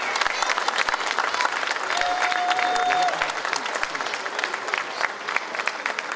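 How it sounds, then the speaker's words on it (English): A convention audience at a hometown heroes ceremony claps in a loud, dense, sustained round. A brief whistle-like tone rises over the crowd partway through, and the clapping stays strong to the end. "Can we get one more round of applause for all of them,"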